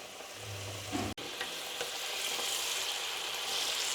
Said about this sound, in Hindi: फ्राइज़ को हम 5 से 7 मिनट तक फ्राई करेंगे